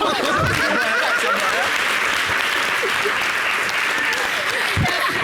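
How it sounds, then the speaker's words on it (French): A studio audience at a French-language TV variety show applauds loudly and continuously, with scattered laughter and chuckles mixed in and voices talking over the clapping. "Mais applaudissez, c'est bon."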